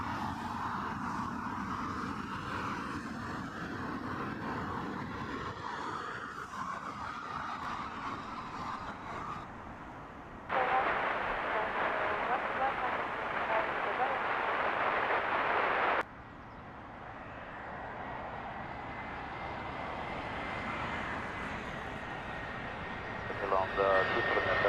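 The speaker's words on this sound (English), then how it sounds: "787-9 Dreamliner." A Boeing 787-9 Dreamliner jet arriving at Heathrow, its engine roar rising and holding as a broad rush, heard from a distance with brief shifts in loudness partway through.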